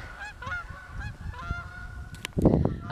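Geese honk repeatedly as they take flight near a race track, a loose series of nasal calls over wind and movement noise, building to a louder burst of flapping and calls at the end.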